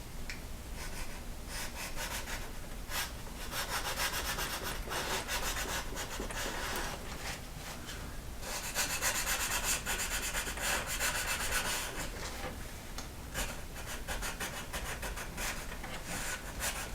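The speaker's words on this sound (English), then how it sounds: "just to get to roughen that grain up a little bit, so it catches the glue easier" Sandpaper rubbing across leather to roughen the grain for gluing on a vertical wallet, a continuous scratchy back-and-forth rasp in close, even strokes with no talk.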